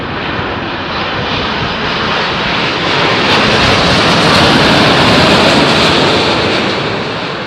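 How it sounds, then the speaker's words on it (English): A Saudi jet airliner's engines roar steadily and loudly, a broad continuous rumble that swells slightly toward the middle and stays strong throughout, with no voices. "It's another Saudi jet."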